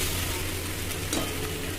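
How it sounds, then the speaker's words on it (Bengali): Ginger paste and tomato-green chili paste fry in a hot pan with a dense, even sizzle, and a spoon stirs through it now and then; the sound stays loud and steady throughout. "এবার দেবো টমেটো আর কাঁচা লঙ্কা যে পেস্ট করেছি ওটা দিয়ে দিই। দিয়ে এবার ভালো করে নাড়াতে হবে"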